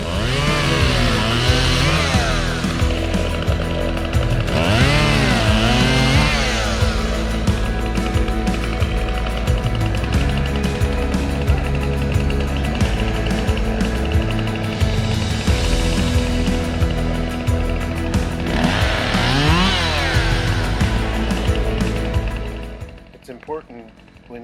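A saw cuts through branches of a felled redbud tree, a loud, steady, buzzing engine drone holding for over twenty seconds with pitch swells as the blade bites, then dropping off at the end.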